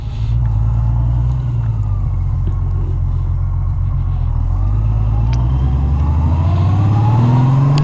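A 2004 Honda Rune motorcycle cruises in fifth gear, its engine a loud, close, steady rumble that climbs in pitch toward the end, with no talking.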